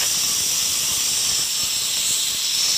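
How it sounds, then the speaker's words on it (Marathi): A pressure cooker on a medium flame, cooking masala rice, lets out a steady, sharp hiss of escaping steam that stays loud and unbroken for nearly three seconds, heard close with no voices. "आपल्या कुकरच्या शिट्ट्या झालेल्या आहेत."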